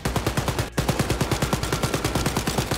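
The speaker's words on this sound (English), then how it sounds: "Please stop shooting at me." Automatic gunfire in the video game Wolfenstein: Youngblood, a loud, rapid, evenly spaced burst of shots with one brief gap, repeating without letup and no talk over it.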